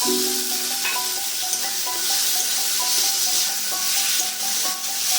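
Prawns frying in a pan of tomato spice paste, giving a continuous bright sizzle with soft rubbing stirs and faint clinks, close and steady with no talking.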